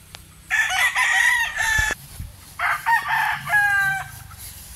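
Roosters crow at a chicken farm, with two loud, close cock-a-doodle-doo calls one after the other over a low background hum, and no talking.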